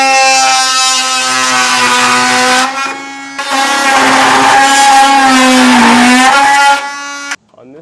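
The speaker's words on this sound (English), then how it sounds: "I'm going to just use an oscillator tool and cut as close as I can" An oscillating multi-tool cuts through the heat shield under the bed of a 2021 Chevrolet Silverado truck. The whine is loud, steady and high-pitched, shifts slightly in pitch as it works, and breaks off briefly twice before stopping near the end.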